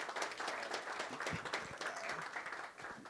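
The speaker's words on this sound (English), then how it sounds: "Senator Scott and Raynard up with a rounding round of applause." An audience applauds for Senator Tim Scott at a policy discussion, a steady, dense wash of clapping from many hands that holds at an even level throughout.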